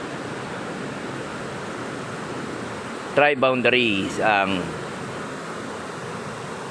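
Water pours steadily over the Tarlac Diversion Dam in Tarlac, a broad, constant rushing wash like surf that runs throughout, with someone speaking briefly over it midway.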